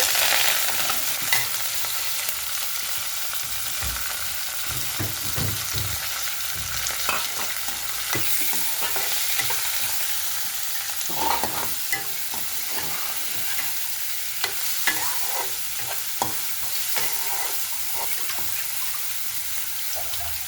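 Onion, green chilli and curry leaves frying in a pan for a leafy greens tempering, a constant bright sizzle broken by stirring clatters and spoon knocks, close and steady, without speech.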